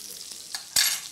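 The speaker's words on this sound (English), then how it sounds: "you can see they are sizzling already." Onion rings frying in a pan while cashew nuts are readied for garnish, a brief soft sizzle with a couple of scraping stirs, the last one louder.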